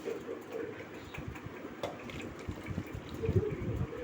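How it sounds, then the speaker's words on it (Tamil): Water runs and splashes steadily into a pan of paneer butter masala, a continuous liquid pour with soft bubbling, fairly close and moderately quiet. "இப்போ இதோட கொஞ்சம் தண்ணி சேர்த்துக்கோங்க."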